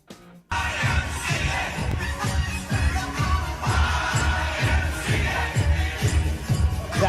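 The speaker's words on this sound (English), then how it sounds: "That is the sound of Iranian women dancing and cheering and walking the streets of Los Angeles" Crowd of Iranian women cheering and dancing through the streets of Los Angeles, a dense continuous roar of voices over a steady pounding rhythmic beat, loud and sustained throughout.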